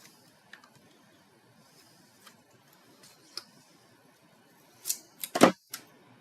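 Scissors trim cardstock for a handmade card, scattered light clicks building to a short cluster of louder snips near the end, close by with no talk.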